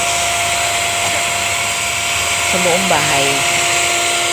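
A Yairz vacuum cleaner runs with a steady, high electric motor whine and airy hiss throughout, while a person speaks briefly over it.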